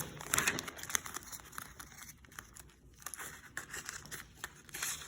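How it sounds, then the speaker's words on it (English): Scissors cutting a thin plastic sheet into strips for masking around a vinyl stencil, with soft crinkling, snipping and rustling, close but quiet, no talk. "I take some of this plastic and I just cut it into strips."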